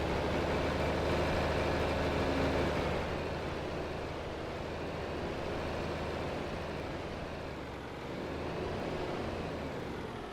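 A vintage tractor engine in the video game Farming Simulator 25 rumbles steadily, a loud continuous low drone throughout with slight shifts in load and no talk over it.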